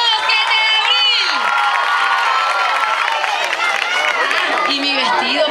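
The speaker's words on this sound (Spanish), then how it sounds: "¡Un aplauso, 7 de abril!" A crowd at a carnival coronation ceremony in Colombia cheering and clapping, with loud overlapping shouts and voices riding over steady applause throughout.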